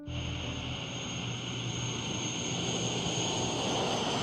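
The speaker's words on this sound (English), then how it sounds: "A plane circling the airfield overhead dipped down and got into landing position." Four-propeller US C-130 cargo plane descending into landing over an airfield in a video game, a steady droning engine roar with a high whine, sustained and fairly close throughout.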